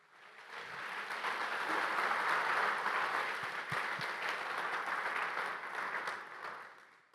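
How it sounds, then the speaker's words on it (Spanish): A church congregation applauds in a long, steady wave of clapping that swells and holds, then tapers off near the end, with no talk over it. "Dale un fuerte aplauso a Dios."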